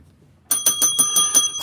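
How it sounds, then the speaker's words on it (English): A small desk bell struck repeatedly by a stock trader, about seven quick bright metallic dings in a steady rhythm, loud and close, after a brief silence. "I just blew my bell off the daggum desk ringing it."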